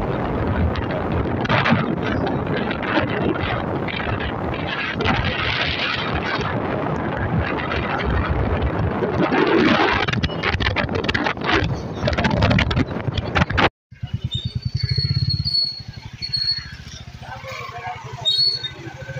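A motorbike ride with strong wind buffeting the microphone, a steady loud roar for most of the stretch before a sudden drop to quieter engine idle and light ambience; a person talks over it.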